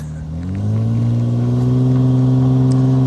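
A car engine revs up hard and holds a high rising drone as the tires spin with a brake line lock drag racing setup, loud and close.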